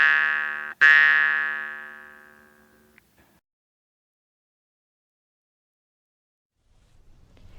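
A jaw harp is plucked twice, giving a loud twangy buzz that rings out and fades over about two seconds after each pluck. A faint click follows, then near silence until a low rumble at the end.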